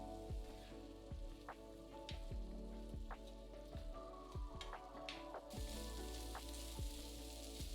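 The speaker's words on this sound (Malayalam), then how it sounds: "5 മിനിറ്റ് കഴിഞ്ഞ് അടപ്പ് മാറ്റി 10 മിനിറ്റ് ഫ്രൈ ചെയ്യുക." Carrots fry in an uncovered pan for Kerala-style carrot mezhukkupuratti, with a soft continuous sizzle broken by sharp crackles and spatters at irregular intervals, quiet and close with no talking.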